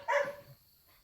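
A dog barks on a farm from inside a barn during a drought, giving one short, fairly distant bark, followed by a faint trailing whine and then quiet.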